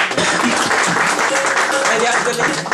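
A congregation at a Christmas church gathering breaks into loud, dense applause, a steady wash of many hands clapping close by, with voices audible in the mix.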